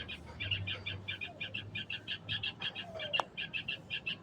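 A bird calls over and over in quick, high chirping bursts, steady and fairly close, with a low hum underneath and one sharp tap near the end.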